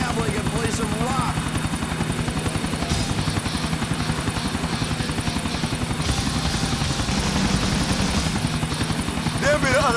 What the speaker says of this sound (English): Give me the other chopper.